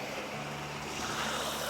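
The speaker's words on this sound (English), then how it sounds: "one of those trickling kind of baby mountain streams" A small trickling mountain stream flows beneath a road bridge, a steady broadband wash of water close by with no voices.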